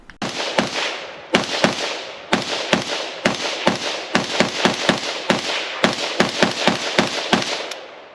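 A Springfield Hellion bullpup rifle fires a long string of sharp, loud shots at a quick, slightly uneven pace, some in closely spaced pairs, with no talking.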